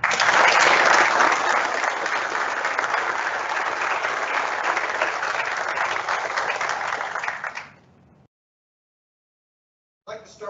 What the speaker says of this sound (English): How about another round of applause for Command of the Philadelphia?